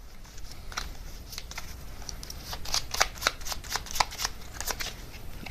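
Tarot cards being shuffled close by, with a run of quick crisp riffling snaps that grow denser and louder toward the end, no speech.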